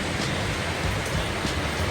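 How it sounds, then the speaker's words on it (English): Heavy rain blasting down in extreme wind at the King's House Hotel on the West Highland Way, a dense, loud, continuous hiss of rain with gusty surges and no talking. "Rain is just blasting."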